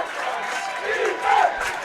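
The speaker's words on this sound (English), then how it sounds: "Listen to the crowd coming alive." A football stadium crowd at a 2015 IWFL women's playoff game between the Pittsburgh Passion and NY Sharks sends up a continuous roar of cheering that swells louder near the end.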